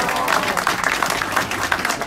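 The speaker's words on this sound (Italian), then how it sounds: "applauso al sindaco" A crowd applauds the mayor at an outdoor political rally in Pavullo nel Frignano, Modena, dense steady clapping with scattered individual claps standing out throughout.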